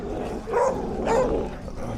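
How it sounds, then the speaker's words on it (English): Unhappy dogs at an outdoor 1990s car meet give two short, close, growling bark-howls in quick succession over a low background murmur. "unhappy dogs"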